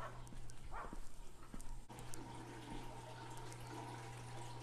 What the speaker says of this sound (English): Now I'm using this water hose to put some more water in it